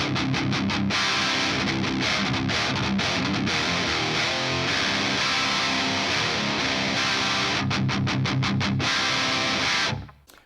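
Mesa Triple Rectifier amp with treble set aggressively high, playing a crunchy high-gain metal guitar riff: fast palm-muted chugs with tight stop-start gaps, loud and upfront, ending in a quick fade.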